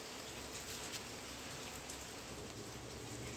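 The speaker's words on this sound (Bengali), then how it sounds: "বৃষ্টির আকাশটা দেখো, এখনো বৃষ্টি পড়ছে।" Steady rain hisses evenly, a dense wash of falling drops with no other sounds standing out.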